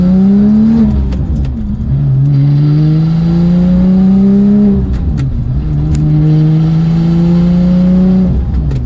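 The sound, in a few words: Porsche 911 GT2 manual engine revving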